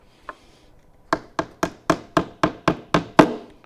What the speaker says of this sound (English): Go ahead and nail them around.